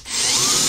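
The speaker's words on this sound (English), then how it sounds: "I'm going to go ahead and drill holes in the corner just to make it a little bit easier to get through the paneling" A power drill bores holes through wall paneling during a solar installation, giving one steady, close, high-pitched whirring whine that rises slightly in pitch as the bit cuts.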